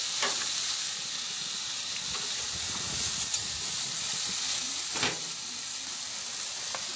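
Barbecue ribs glazed with sauce sizzle and char over the heat in a constant, steady hiss with faint crackles and pops, heard close up with no voices.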